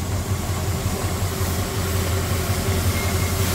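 A red four-door Ford Maverick's 302 V8 idles up close, a steady low rumble with a slight lope and no talking.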